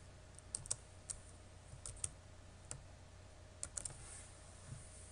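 Python code is typed on a computer keyboard in quiet, uneven bursts of light, close key clicks, with short pauses between the taps.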